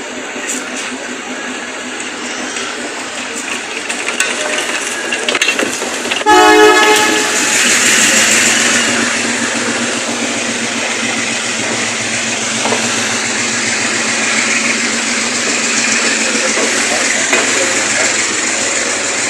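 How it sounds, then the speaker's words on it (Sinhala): The Udaya Devi express train approaches from far off with its engine rumbling and a short horn blast, growing louder and steady as it nears. "ඔයාලට පේන වැඩි ඈතින් අපේ කෝච්චිය එනවා."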